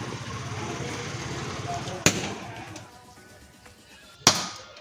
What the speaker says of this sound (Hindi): तो अब बारी है बीड़ी बम जलाने की।